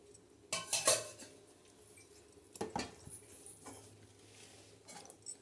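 Eggs clink and knock against a metal pot of simmering tamarind gravy as they are dropped in one by one, followed by a clatter as the lid goes on, with quiet background noise between the sounds.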